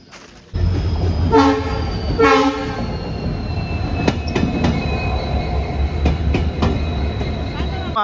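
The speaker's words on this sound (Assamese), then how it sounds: "এইখন ট্ৰেইন আহি আছে।" A train approaches at a railway junction, sounding two blasts of its horn over the rumble and clatter of wheels on rails, with a high squeal of wheels running steadily through the passing cars.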